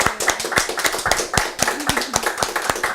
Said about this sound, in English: Let's give Crystal a warm hand of applause.